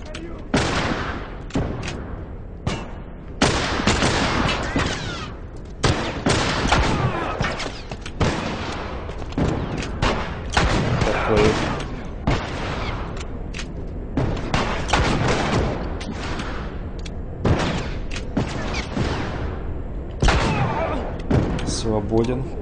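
Gunfire during a shootout in The Last of Us, with repeated loud sharp shots and booms in rapid, uneven bursts, mixed with game sound throughout.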